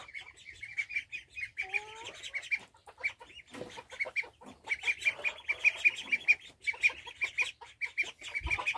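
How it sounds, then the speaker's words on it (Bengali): Chickens cluck and chirp around a yard with chicks nearby, a busy overlapping stream of close bird calls rising and falling, with a brief vocal sound midway and no clear speech. "দেখেন মুরগিগুলি ওখানে চলে আসছে।"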